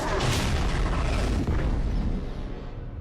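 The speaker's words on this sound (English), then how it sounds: "Did that security bot just shoot a rocket?" A security bot fires a rocket in Bioshock 2: Minerva's Den, a loud, close booming blast with a long rumbling tail that fades slightly toward the end.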